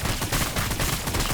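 Dense rapid gunfire rattles without pause from units on a Warhammer 40,000 battlefield between Necrons and Tyranids, a steady loud fusillade of overlapping shots with no voices.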